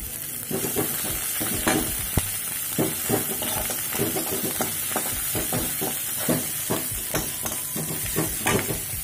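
Ginger, green chili and onion fry in hot oil for a cheesy bread cutlet, a steady close sizzle broken by repeated stirring and scraping strokes against the pan.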